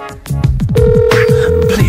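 A telephone rings in a comic song right after 911 is dialed, its ringtone loud and close over a steady musical backing, with a sustained tone running through the middle.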